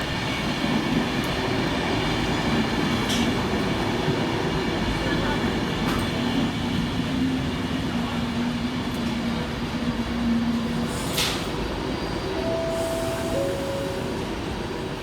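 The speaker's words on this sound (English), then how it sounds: "Next to arrive into the station with 39002 with the 1636 Avanti West Coast service" An Avanti West Coast passenger train, locomotive 39002, rolls into Stockport station with a steady, heavy rumble of wheels on track, and a brief high wheel squeal rises near the end as it slows.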